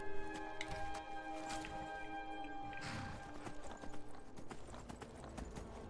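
Horse hooves clip-clop in Skyrim, a quick steady run of close, distinct hoof strikes over game ambience, with one softer snort-like sound partway through.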